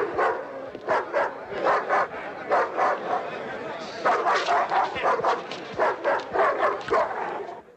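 A large dog barking in an older film, with rapid, loud, repeated barks and yips in quick bursts, close and aggressive, over a low rumble.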